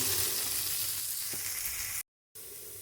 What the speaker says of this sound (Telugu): టమాటాలు కూడా మెత్తబడే వరకు ముక్కల్ని కలుపుకుంటూ మగ్గనివ్వాలి